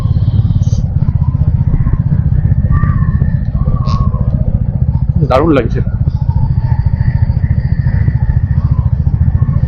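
A motorcycle cruises along an open, empty road, its engine a steady loud rumble throughout, with someone talking over it.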